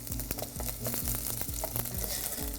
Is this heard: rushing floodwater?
no